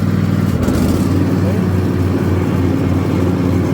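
Cub Cadet XT1 lawn tractor engine running steadily at idle, a loud, continuous low throbbing drone close by, unchanging throughout.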